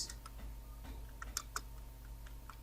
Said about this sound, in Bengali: এখন আবার শিফট চেপে ট্যাব প্রেস করি